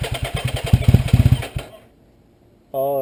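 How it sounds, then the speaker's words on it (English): A Yamaha FZ09 motorcycle fitted with a new M4 exhaust cranks in a rapid, loud pulsing chug for about a second and a half without catching, then falls silent before a short high tonal sound begins. "his bike doesn't even start"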